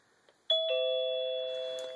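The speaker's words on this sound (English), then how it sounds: "nice little doorbell" A radar detector's two-tone electronic doorbell chime rings once, clear and close, its second note sustaining and slowly fading.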